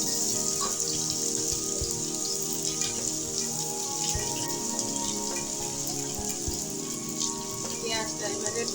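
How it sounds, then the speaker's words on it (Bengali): Onions fry in a pan with chillies and garlic for a restaurant-style egg tadka, giving a dense, steady crackling sizzle like rain, close and continuous throughout with no talk. "পেঁয়াজটা এবারে একটু ভাজা ভাজা করে নেবো।"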